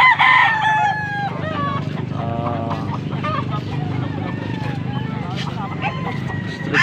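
A one-year-old white bull stag rooster crows loudly at close range, one sustained crow opening the moment, with people talking steadily through and after it.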